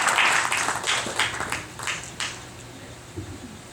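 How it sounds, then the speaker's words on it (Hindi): Audience applause at a Hindu temple talk in Chicago welcoming a speaker: a scattered crowd clapping that is moderately loud at first, then thins out and fades to a few stray claps. "मैं चाहूँगा एक बार फिर से तालियों के साथ इनका स्वागत किया जाए।"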